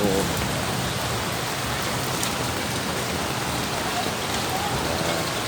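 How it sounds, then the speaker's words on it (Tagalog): Heavy rain falls steadily in a dense, even hiss, close and constant throughout with no breaks. "Sobrang lakas ng ulan."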